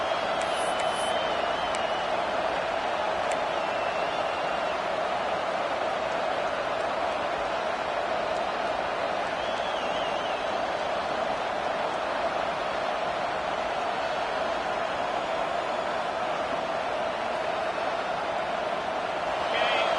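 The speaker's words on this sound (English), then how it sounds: "the crowd really making some noise now, trying to help out this defense to get this stop near the goal line" A dense, constant roar of a large video game stadium crowd at a college football game in Arkansas, loud and sustained throughout, with faint announcer-like voices mixed in.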